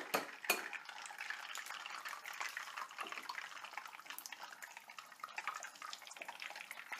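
Eggs frying in olive oil in a pan, a steady close sizzle and crackle with a faint clink of utensils and no talking.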